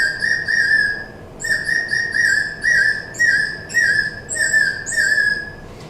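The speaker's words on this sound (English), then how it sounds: "as the water is bubbling, when the whistle goes over the water, it warbles" A water-filled bird whistle, blown over bubbling water inside, gives bright warbling trills in about seven short repeated bursts, close and clear with no talking.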